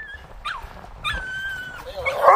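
A small Teddy-type dog whimpers and yips in short high cries at close range, ending in a louder whine, with no talk over it.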